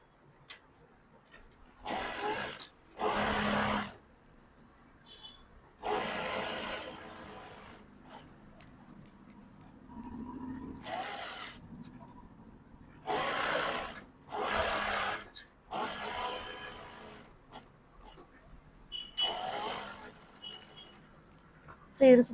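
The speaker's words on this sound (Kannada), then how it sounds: "ಇದ್ರ ಮೇಲೆ ಉಲ್ಟಾ ಸೈಡ್ ನ ನಾನು ಲೈನಿಂಗ್ ಇಟ್ಟು ಸ್ಟಿಚ್ ಮಾಡ್ತೀನಿ." Sewing machine stitching lining onto the reverse side of fabric for a collar, in several separate loud bursts of a few seconds each, with quiet gaps and soft handling noise between.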